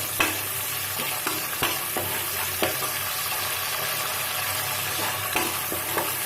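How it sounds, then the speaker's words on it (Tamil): Small shallots and garlic sautéing in oil with whole spices for a kadaknath chicken gravy produce a dense, steady sizzle punctuated by regular stirring scrapes and clinks close to the pan. "நல்லா வதக்கிக்கோங்க."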